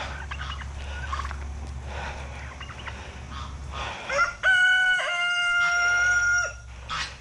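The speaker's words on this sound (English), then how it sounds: "Let me get up here near the chickens" Low rumbling and faint bird noises give way to a loud, drawn-out harmonic call from a nearby fowl, like a crowing chicken, lasting a few seconds.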